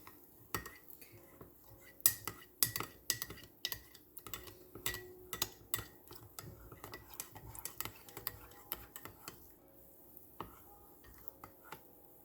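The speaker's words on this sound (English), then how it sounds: "Make sure you get all that chocolate stirred in" A spoon stirring a melted hot chocolate bomb into hot chocolate: quiet, irregular clinks and taps of metal against a mug, some in quick clusters, with brief lulls between them.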